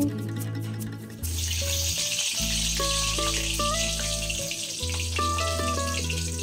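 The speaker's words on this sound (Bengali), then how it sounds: "চলো আমি এবার চটপট করে একটু আলুগুলোকে ভেজে নিই" Potatoes fry in hot oil with salt and turmeric, giving a steady, even sizzle that runs unbroken under a loud low hum and tonal whine from the kitchen, with no talking.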